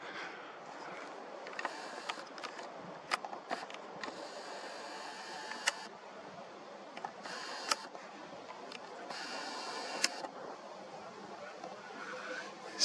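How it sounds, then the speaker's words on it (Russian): A Nikon Coolpix 5000 digital camera gives several sharp, quiet shutter clicks spread across the stretch, amid soft mechanical handling noise and a hissy background. "Снимаю фотоаппаратом"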